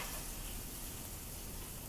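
Steak searing on medium-high heat in a hot grill pan gives a steady, dense hiss and crackle that is loud and continuous, with no voices.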